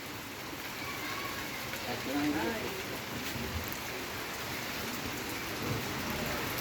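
Steady rain pours down in a village, a dense hiss of drops on surfaces that swells slightly and eases, close and continuous with no talking.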